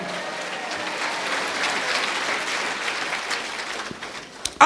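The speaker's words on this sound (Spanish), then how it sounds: "aplausos." A church congregation applauds steadily, a dense wash of clapping from many hands that holds for several seconds before a sudden loud burst at the end.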